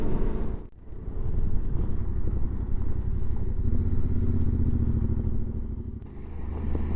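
Motorcycle riding along a road in Argentina on an adventure tour, its engine and road noise a steady close drone with wind rush, broken by a brief drop near the start.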